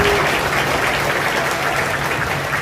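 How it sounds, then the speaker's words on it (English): A school concert audience gives a warm, steady round of applause for band and orchestra students at a spring concert, many hands clapping loudly and evenly throughout. "So if we could give them a round of applause"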